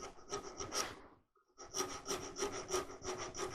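A rasp files the stem of a wooden goblet spinning on a lathe, giving steady rhythmic scraping strokes that pause briefly partway through and then resume, close and fairly loud.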